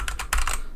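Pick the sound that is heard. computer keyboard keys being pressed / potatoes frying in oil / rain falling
computer keyboard keys being pressed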